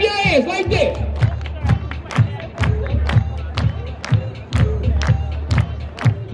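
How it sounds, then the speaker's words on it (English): A crowd at a Las Vegas stage show claps in a steady, regular rhythm with scattered cheers and shouts, loud and close, while a voice speaks over the start. "Everybody clap your hands like this."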